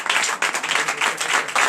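A church congregation applauding during a night service of deliverance and prophecy, a short dense burst of many people clapping in pulsing waves, fairly close and with no talk over it.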